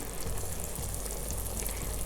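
Water from a pot of boiled potatoes drains away in a steady close gush, a continuous splashing rush that runs the whole time without pause.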